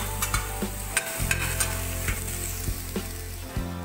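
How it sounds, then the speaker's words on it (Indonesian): Onions sizzle steadily in hot olive oil, with a utensil scraping and tapping the pan at intervals. "tuang minyak zaitunnya lalu kita tuang bawang"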